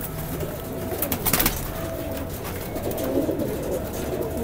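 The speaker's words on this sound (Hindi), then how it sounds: "ये वैशी है, ये कबूतर बड़ा कबूतर है, मेन वैशी कबूतर" Highflyer pigeons in a loft give off low cooing amid steady rustling and background noise, the soft calls blending into a continuous murmur with a brief louder swell midway.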